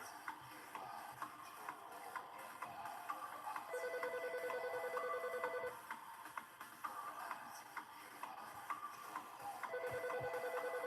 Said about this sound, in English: Answer the phone, Andrew.